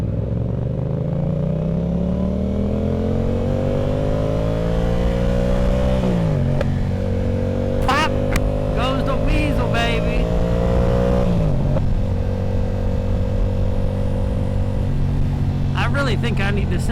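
A motorcycle running rich, its engine droning and rising through the gears while being ridden, with revs climbing and dropping, steady and close under a rider's ongoing talk.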